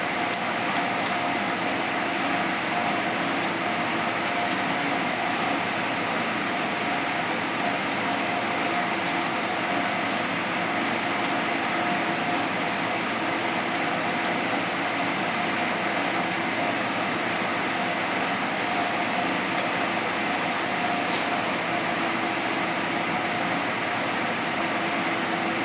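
An experimental new-concept DC electric motor, its connector held in place by hand, runs with a steady, even whirring hum that stays constant throughout, with no voices.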